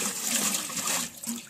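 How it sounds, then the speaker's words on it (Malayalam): Water gushes briefly into a copper biryani vessel, a close, steady splashing rush that lasts just over a second. "നമ്മൾ ചെമ്പ് ബിരിയാണി വെക്കാനുള്ള ചെമ്പ് വെച്ച് ഇതിൽ കുറച്ച് വെള്ളം"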